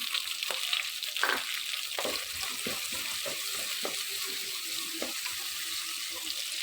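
Shallots sautéing in a pan with pepper, cumin and fennel: a steady bright sizzle with occasional stirring scrapes, close and continuous, without talk.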